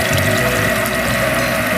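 Water gushes steadily into a live steam locomotive at a water stop on a miniature railroad track, a loud, close, continuous rushing with no pauses.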